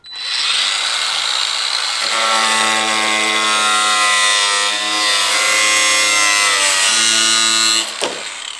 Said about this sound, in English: we're going to start drilling stuff on the bar now and see how we go